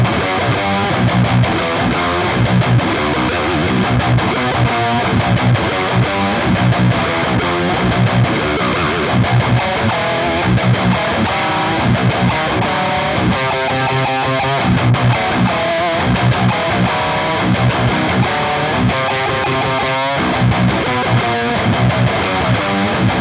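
Telecaster electric guitar, a stock '60s-style model, played through a Kemper rock amp profile with crunchy distortion, heard as a dense, continuous loud riff with some sustained chord passages and no talking.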